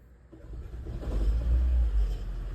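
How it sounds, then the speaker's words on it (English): A 2012 Toyota Prius engine with a misfire starts and runs: a low rumble swells up from near quiet and holds steady and fairly loud, heard close. "I'm gonna go ahead and hit the gas pedal to get the engine running."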